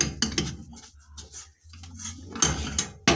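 Hot self-hardening dough being transferred into a salad bowl, giving a few clattering bowl and utensil knocks and scrapes close by, with a low steady hum underneath and a quiet gap midway.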